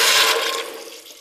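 Vegetable broth poured into a hot pot to deglaze a Bavarian cabbage stew, a loud rushing splash and sizzle at the start that gradually tapers off over about a second, with no talking.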